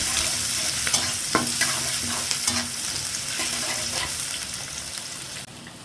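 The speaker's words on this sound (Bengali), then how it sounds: "আলু আর পেঁয়াজ ভাজা শেষ" Potato and onion fry together in a pan, with a steady close sizzle and repeated scraping stir strokes from a spatula.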